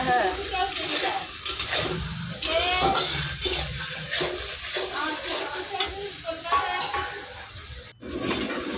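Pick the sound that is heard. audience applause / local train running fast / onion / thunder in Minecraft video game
onion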